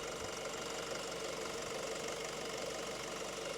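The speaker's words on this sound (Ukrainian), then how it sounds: "Слухайте, як працює двигун." 2013 Honda CR-V 2.2 i-DTEC diesel engine idling with the bonnet open, a steady close rumble with rhythmic diesel clatter, constant and unbroken.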